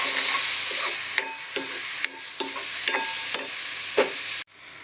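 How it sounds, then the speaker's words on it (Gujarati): Crushed mango and ghee are stirred in a kadai for coconut mango laddu, a loud continuous sizzle broken by regular scraping strokes of the spoon before the sound cuts off abruptly near the end. "કેરી કઢાઈની અંદર એડ કરીશું. ઘી એડ કરીશું. હવે તેને હલાવતા જઈશું."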